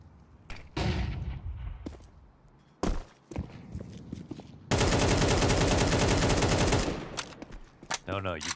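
Rifle spray in Counter-Strike on Overpass: several short, sharp single shots, then a sustained rapid burst of automatic fire lasting about two seconds. More clipped shots follow, all loud and close.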